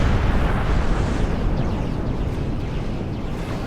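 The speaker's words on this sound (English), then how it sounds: "No, stop shooting at me." Weapon fire and explosions in the space game Star Trek Online: a loud, booming, rumbling blast that starts out heavy and slowly fades into a roaring tail.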